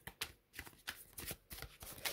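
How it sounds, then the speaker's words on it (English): A Fournier tarot deck is shuffled up close: soft, rapid riffling bursts of sliding cards repeat about every half second, quiet and crisp, with no voices. "The shuffle is just beautiful. It's like shuffling butter."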